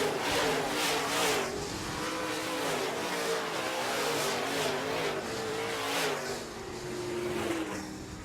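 Modified division race cars roar around a track at a feature race, their engines droning loudly and rising and falling in pitch as the pack passes, with no commentary heard.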